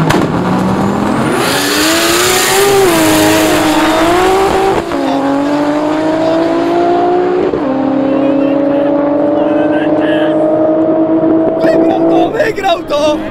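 A drift car accelerates hard during a night drift competition in Werneuchen, its engine note climbing in long, loud revving sweeps with brief shifts and a hint of tire squeal, while commentators talk over it.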